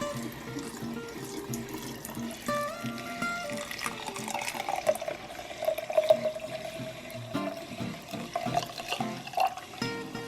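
Tap water runs steadily into a sink while hydroponic sprouts are rinsed in lukewarm water, a continuous splashing flow with small shifts in intensity, close and unbroken, with no talking.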